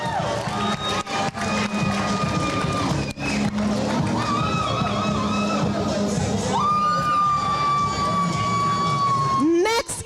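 An audience at a pageant cheers and whoops for a contestant amid lively crowd noise, with an announcer's amplified voice and music-like tones running over the din throughout.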